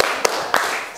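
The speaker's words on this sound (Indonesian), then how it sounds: "Yuk kita berikan tepuk salut." Two sharp, separate claps, evenly spaced, from a group's 'tepuk salut' clap salute during a classroom presentation, set against a steady hiss of room noise.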